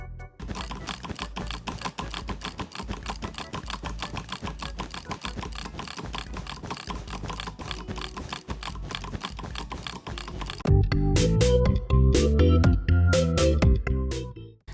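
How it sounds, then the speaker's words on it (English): Rapid, steady mouse clicking from drag clicking while bridging in Minecraft, a dense continuous rattle of clicks that gives way near the end to louder, fuller clattering. "I recommend drag clicking the most"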